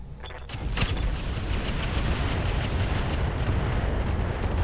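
Incendiary weapons fire in the BattleTech mod Roguetech, starting with a burst and then holding as a loud, sustained roaring blast that fills the whole stretch, with no voices.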